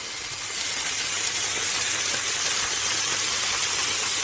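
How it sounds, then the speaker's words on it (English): Liver fries gently in a pan, giving a loud, dense, continuous sizzle and hiss close up that builds in the first half second and then holds steady, with no voices. "fry it gently on the other side as well"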